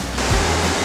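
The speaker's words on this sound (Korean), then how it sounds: "계곡 물소리와 함께 요리" A brief burst of rushing, splashing water, broad and steady like a mountain valley stream pouring over rocks beside a campsite near Jirisan, heard up close.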